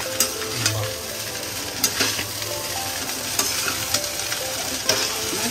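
Rice fries in a pan over a low flame while being stirred, a constant sizzle broken by periodic scraping knocks of the utensil against the pan, fairly close, no talking.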